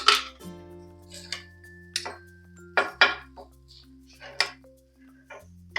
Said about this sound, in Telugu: ఇలా 2 స్పూన్స్ ఉంటే లాడల్స్ మనకి ఈజీగా ఉంటుంది చేసుకోవడానికి, కలపడానికి